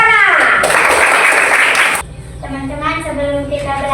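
A classroom of children claps in a burst of applause for about a second and a half, then stops as a voice takes over.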